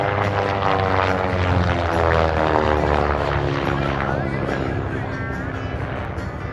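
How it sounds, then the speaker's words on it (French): Small propeller observation airplane, a Broussard, flying at the La Ferté-Alais air show, a loud droning engine with a throbbing propeller buzz that peaks early and then fades as it moves away. "Des petits avions d'observation comme ce Bushpool."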